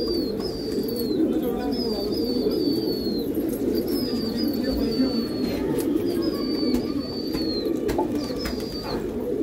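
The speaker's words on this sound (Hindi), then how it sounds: "कबूतर है आने वाले और आएंगे" Pigeons kept by Old Delhi pigeon fanciers call in repeated short notes over a dense, steady murmur of cooing from a large flock, with outdoor ambience throughout.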